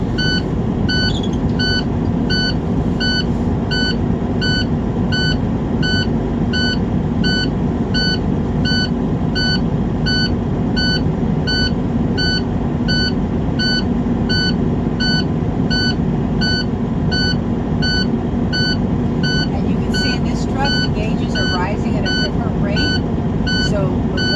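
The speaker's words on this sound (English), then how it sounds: "make sure that both my low air warning light and buzzer go off around 60 psi" A truck's low air warning buzzer beeps steadily in a fast repeating pattern over a low engine idle rumble, continuing throughout.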